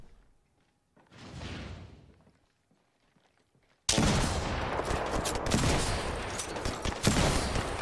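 Video game gunfire: after a quiet stretch with one soft muffled burst, a loud, dense barrage of rapid shots erupts and continues without a break to the end.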